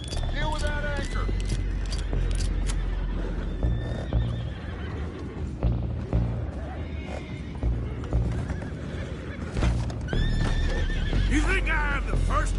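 Horses neigh repeatedly in Red Dead amid a loud, busy scene of clattering hooves and rumbling action, the whinnies cutting through near the start and again toward the end.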